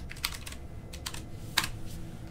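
Typing on a computer keyboard: a quiet, close run of irregular key clicks with a few sharper taps, and no talking over it.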